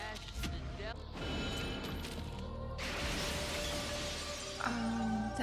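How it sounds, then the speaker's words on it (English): Window glass shatters in a film scene from The Crow (1994), a sharp crash with scattering fragments amid loud soundtrack noise, while a person talks over it. "Oh, that's how the window broke."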